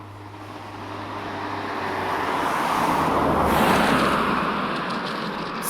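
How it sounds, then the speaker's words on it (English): Car traffic passing near an outdoor talking spot, a broad roar that swells to a peak in the middle and then eases off, with a low steady hum underneath and no voices. "Sorry for the car noise."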